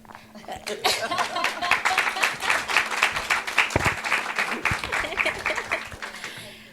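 Workshop audience applauding, a sustained round of dense hand clapping that builds quickly, holds steady for several seconds, then tapers off.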